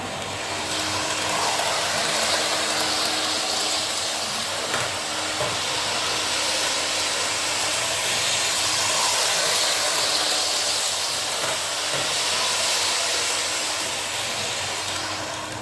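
A Hornby LNER Azuma model train runs along track laid on a loose track mat, giving a steady close whirring hiss with a faint rattle that holds through the whole stretch, without talk.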